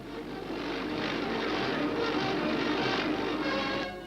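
Military aircraft engine droning steadily overhead during a combat operation against rebels, a continuous loud roar that swells in and fades slightly at the end, with no talk.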